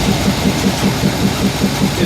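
A large engine, the south one of a pair, idles in a plant room with a steady low rumble and a regular pulsing beat, continuous and close throughout.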